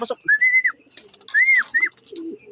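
A racing pigeon arriving at its loft trap gives soft cooing calls with a couple of whistled notes, close and clear, broken by brief pauses and faint fluttering.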